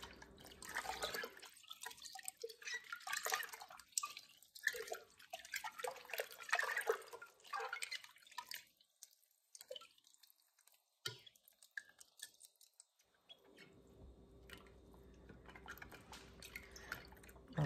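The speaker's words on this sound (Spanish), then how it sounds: "Y ahora le vamos a agregar el jugo de limón." Lemon juice is poured into lavender lemonade, heard as faint, close trickling and dripping splashes in uneven bursts over about twelve seconds before fading to near silence.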